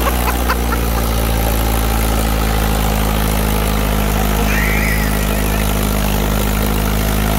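A Mahindra 585 XP Plus 50 HP tractor engine idles steadily, a constant low diesel rumble heard up close and loud, with faint outdoor background noise and no talk.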